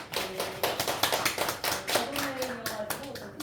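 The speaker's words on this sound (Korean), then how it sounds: "하나님의 은혜로 잘 다녀오신 우리 집사님 박수 한번 쳐드릴까요?" A church congregation at a Sunday worship service applauds with scattered, uneven hand claps close by, while voices murmur underneath.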